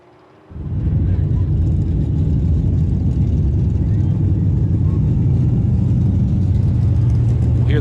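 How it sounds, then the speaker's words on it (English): Race cars run on a dirt speedway track, a loud, steady low engine roar that begins abruptly after half a second and continues, with a voice audible over it. "We'll hear those cars coming on the track now."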